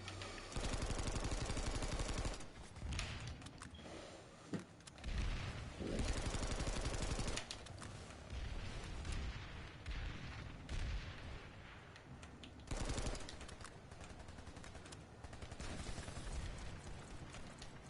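Track 5S rifle in Planetside 2 fired in rapid bursts, loud dense crackling shots in stretches of several seconds with brief pauses between them and more gunfire in the background.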